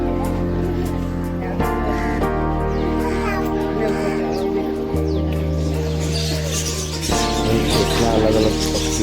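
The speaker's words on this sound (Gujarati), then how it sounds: "અહીં પક્ષીઓનો અલગ અલગ અવાજ સાંભળીને મજા જ કંઈક અલગ આવે છે।" Various birds call in Indroda Nature Park, Gandhinagar, home to peacocks, ducks and swans, with sustained honking and tonal calls that overlap and shift, plus scattered chirps, fairly close and continuous.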